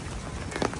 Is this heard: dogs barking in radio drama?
no